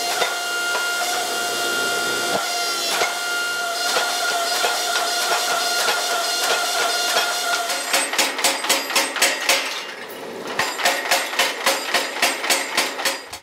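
Fossil Damascus steel canister billet being hammer forged, with a steady hiss under repeated loud metallic blows that settle into a fast, regular pounding rhythm near the end.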